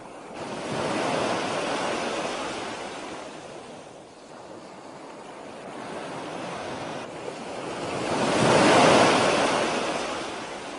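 Sea waves rolling into a cove in Bali, a continuous broad wash of surf with wind, swelling and easing, then building to a louder crash near the end, with no voices.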